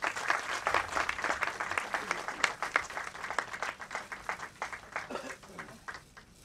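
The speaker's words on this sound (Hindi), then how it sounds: "दोस्तों एक जोरदार ताली बजा दीजिए" Audience clapping at a Bhojpuri film launch ceremony, a steady patter of many hands that swells and then thins out, heard fairly quietly with some voices mixed in.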